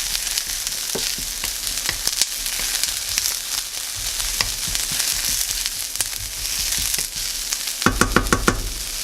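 Chopped square pieces of tempeh fry steadily in a pan over medium-high heat, giving a dense, continuous sizzle scattered with sharp crackles and pops that bunch into a louder flurry near the end.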